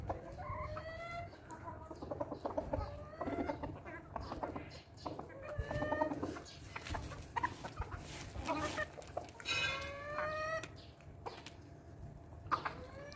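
Hens and a rooster cluck and call repeatedly while pecking at barley on a tray, with busy overlapping bird sounds close by and someone talking now and then over the flock.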